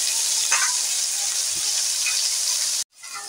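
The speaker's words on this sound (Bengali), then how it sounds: "এবার একটু নাড়াচাড়া করে নেব, নাড়াচাড়া করে একটু ভালো করে ভেজে নেব" Red amaranth greens with turmeric are stir-fried in a pan, making a continuous bright sizzle with faint stirring scrapes, cut off briefly near the end before the sizzle resumes more softly.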